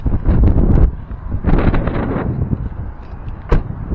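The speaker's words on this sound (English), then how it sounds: "Very windy outside, so you're going to hear lots of wind" Strong outdoor wind buffets an action camera's microphone, a loud, continuous low rumble with gusty surges and no speech.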